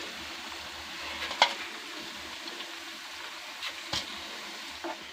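Chicken 65 pieces shallow frying in oil, a quiet continuous sizzle with a few sharp utensil clicks and spatters as pieces are turned.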